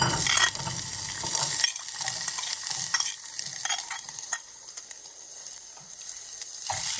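Coconut pieces frying in hot ghee for sweet appam: a soft sizzle with stirring scrapes and light utensil clinks, busier at first, then thinning to sparse quiet crackles and occasional taps.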